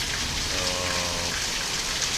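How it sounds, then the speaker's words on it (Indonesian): Rain pours down steadily in a dense, even wash of hiss with no pauses, close and fairly loud, and nothing else stands out above it. "Hujan. Air pancur alami."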